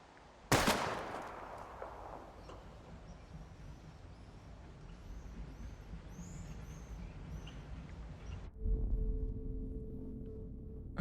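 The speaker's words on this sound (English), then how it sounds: "We're gonna shoot all these bottles without wasting a single bullet." A single sharp gunshot from the Life is Strange video game, fired at bottles, cracks loud and close near the start and trails into a faint hissing ambience with chirping birds, then a low rumble at the end.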